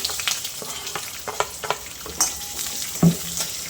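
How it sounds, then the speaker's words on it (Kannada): Onions and curry leaves drop into hot oil for a coriander-leaf spicy rice, giving a close crackling fry broken by repeated scrapes, taps and a clunk of the spoon against the pan, with no voices. "ಈಗ ನೋಡಿ, ಈರುಳ್ಳಿ ಕರಿಬೇವು ಸೊಪ್ಪು ಹಾಕೋತಾ ಇದ್ದೀನಿ."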